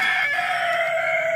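A chicken in a mini zoo gives one sustained, fairly loud call, close by and alone, lasting just over a second.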